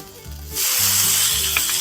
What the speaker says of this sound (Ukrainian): Сковорідка шипить, додаємо сальце.